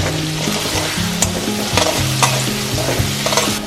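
Spiced masala with fried potatoes sautéed and stirred in a pan, a steady sizzle with spoon scrapes and clinks throughout, close and fairly loud, no talking.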